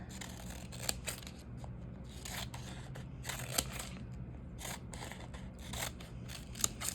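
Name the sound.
scissors cutting paper strips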